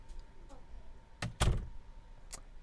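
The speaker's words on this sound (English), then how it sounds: "Close the door." A door is pushed shut indoors with a couple of soft thumps and a brief latch click, followed by a lighter knock, fairly close but modest in loudness.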